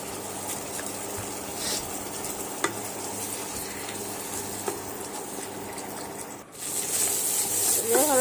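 Mutton is stirred in a pan with soy sauce, chili sauce and tomato ketchup, giving a soft continuous sizzle with occasional scraping clinks. The sizzle grows louder near the end.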